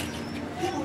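Pigeons coo softly at a hillside tea stop in Sittong near Darjeeling, a short low murmur over steady background ambience.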